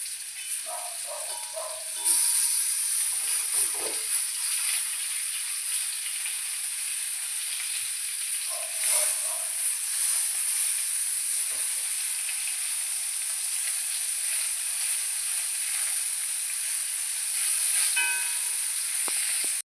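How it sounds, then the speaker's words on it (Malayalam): Food fries in a pan with a steady bright sizzle for the full stretch, while scattered scrapes and taps mark pieces being turned over partway through. "ഇനി ഇതൊന്ന് ഫ്രൈ ചെയ്തെടുക്കാം"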